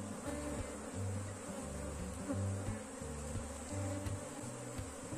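Honeybees buzz steadily in an opened hive during a colony split, a dense, close, continuous drone that swells and dips slightly, with no voices over it.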